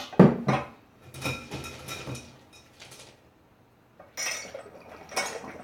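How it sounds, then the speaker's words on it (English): Water is added to dry ice in a home experiment, making a sharp splash and clink at the start, then intermittent bubbling hisses and glassy rattles, loud and close with a quiet pause midway. "let's add some water first."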